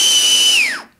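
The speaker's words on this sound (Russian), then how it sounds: "И раздается характерный свист." A homemade vortex whistle, made from a jar with a tube set tangentially and a second tube through the lid, gives a loud steady high whistle when blown, then sweeps sharply down in pitch and cuts off.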